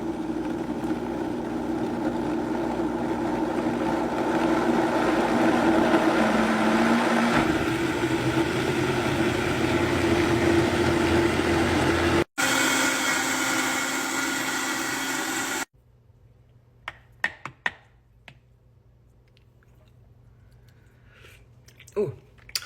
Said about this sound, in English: now we are going into the blender